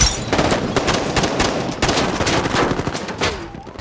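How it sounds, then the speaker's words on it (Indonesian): Heavy movie gunfire during a shootout between police and bank robbers: loud, dense automatic bursts and overlapping shots rattle on without a break. "terjadi baku tembak di kedua belah pihak yang menyebabkan beberapa polisi gugur"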